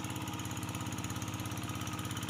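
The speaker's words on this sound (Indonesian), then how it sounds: "yang pertama kita putarin lahan dengan hand traktor tanpa menggunakan bajak" A hand tractor runs steadily while tilling a rice field with a harrow instead of a plough. Its small engine makes a continuous, rapidly pulsing chug, loud and close, with no other sounds.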